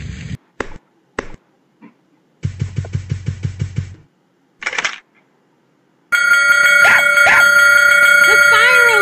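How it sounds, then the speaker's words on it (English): A fire alarm bell rings steadily and loudly in a children's cartoon about firefighters, sustained and unbroken through the final few seconds after a run of clicks, taps and brief cartoon sound effects. "The fire alarm."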